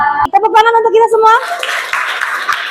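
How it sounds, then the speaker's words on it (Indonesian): A seventh-grade class finishes singing, then breaks into a burst of steady hand clapping that continues to the end, close and fairly loud. "Tepuk tangan untuk kita semua."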